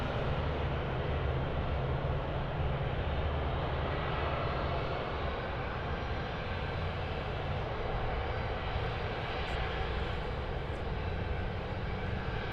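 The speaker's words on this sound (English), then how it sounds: "16 right, takeoff. It's 747." A Qantas Boeing 747 taking off from runway 16 right at Sydney Airport: a sustained, even jet-engine roar, heard from a distance at steady loudness throughout, without talk.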